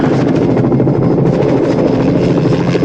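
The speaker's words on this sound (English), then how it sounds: "That's a helicopter." A helicopter thunders close by, its rotor blades beating in a loud, continuous chop that fills the whole stretch.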